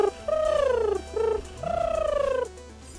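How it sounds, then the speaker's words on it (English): Pigeons coo in two drawn-out phrases, a clear close call over a steady low hum, with no talking. "Pigeons need to leave."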